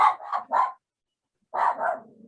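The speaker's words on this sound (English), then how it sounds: "I got basically a 3-dog pup party going on over here" Dogs bark at close range in a quick burst of three sharp barks, then silence, followed by two more barks trailing into a softer growl-like tail.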